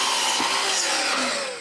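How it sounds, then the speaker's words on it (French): A mitre saw cuts through wood for a picture frame, set at an angle against a length stop, giving one steady, loud, close whining buzz that fades at the end. "je change l'angle de la scie, j'ajuste la butée à bonne longueur et je coupe 2 longueurs"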